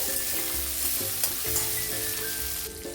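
Spice paste with green chillies and tomato fries in a pan with a loud, continuous sizzle, punctuated by scraping stirs and a persistent low hum beneath; no voices.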